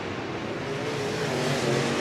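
Race cars roar steadily at close range through turns 1 and 2 of a racetrack, a continuous loud engine drone with a broad rushing edge and no voices.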